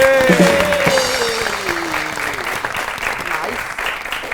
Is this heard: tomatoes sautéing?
no